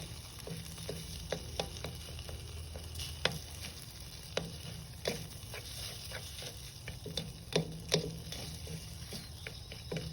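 Rice stir-fried in a pan sizzles softly under a steady hiss, with a spatula scraping and tapping in frequent light strikes, fairly close and quiet.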